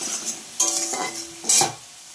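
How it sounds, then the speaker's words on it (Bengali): Potato pieces frying in oil while a metal spatula scrapes and stirs them in the pan, two short bursts of stirring over a soft sizzle. "আলুগুলো একটু ভালো করে ভেজে নেব।"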